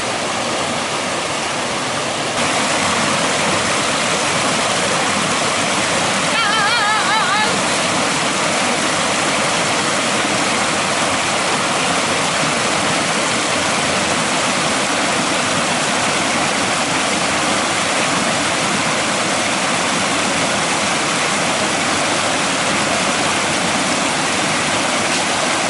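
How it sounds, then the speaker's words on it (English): The Kleinbos River flows over rocks on a hiking trail, a loud, steady rushing and gurgling of water close by that continues unbroken throughout. "At least the river's not too full."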